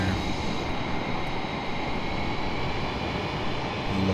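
An F/A-18 Super Hornet taxis at NAS Pensacola in Microsoft Flight Simulator, its jet engines holding a steady, dense roar and whine that stays constant and fairly loud throughout.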